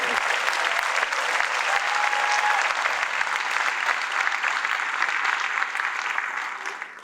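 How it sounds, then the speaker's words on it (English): Audience applause at a senior recognition night awards ceremony, a dense, steady wash of clapping from a sizable crowd that holds evenly for about seven seconds before tapering slightly at the end. "Once again, a round of applause for all of our awards."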